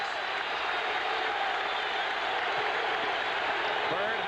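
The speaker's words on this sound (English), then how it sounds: "listen to the crowd as they urge on Philadelphia" A basketball playoff crowd in Boston roars continuously during the fourth period of game 6 between the Celtics and Philadelphia, a dense, sustained wash of cheering and applause with no break.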